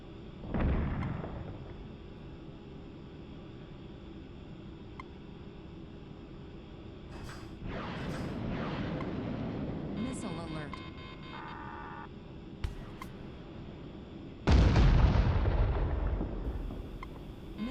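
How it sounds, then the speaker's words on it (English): Missiles and explosions in the combat flight game Nuclear Option: several heavy booms and blasts arrive at irregular intervals amid a low cockpit hum, with a sharp loud explosion near the end. "A short-range missile has been fired at me from behind"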